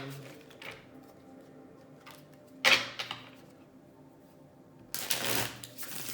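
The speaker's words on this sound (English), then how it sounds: "3 more shuffles" Two quick bursts of cards being shuffled, riffling briskly, separated by quiet pauses with faint room noise.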